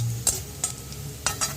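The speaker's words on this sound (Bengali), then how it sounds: "ভাজতে হবে, সবগুলোই একটু কাঁচা কাঁচা আছে" Ghugni ingredients fry in a pan with ginger and kasuri methi, a low sizzle under a few sharp scrapes and clinks of a stirring spoon against the metal, close and without talk.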